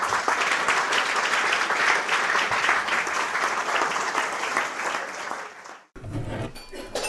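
Audience applause fills the room at a talk on cutting and stacking firewood, steady dense clapping for about six seconds before it cuts off abruptly into quieter room noise.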